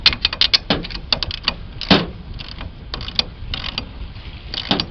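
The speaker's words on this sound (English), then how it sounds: "Go ahead and tighten everything up. Tighten these U-bolts down evenly." U-bolts being tightened on Toyota FJ Cruiser aluminum roof cross bars, a close series of quick metallic ratcheting clicks and creaks in irregular bursts.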